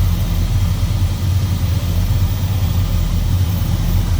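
A 1964 Oldsmobile Jetstar 88 Celebrity Sedan with its Jetfire Rocket V8 and four-barrel carb idling close by, a loud, steady low rumble with an even, throbbing pulse and no talking.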